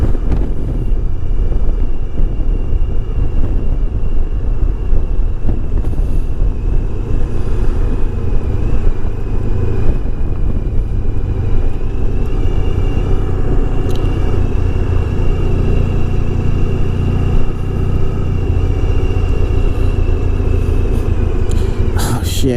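A 1994 Honda ST1100 Pan European motorcycle rides along with the choke on, its engine a loud, steady rumble mixed with heavy wind buffeting, and a rider's voice is heard at times over it.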